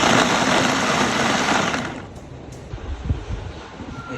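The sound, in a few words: blender blending natural protein drink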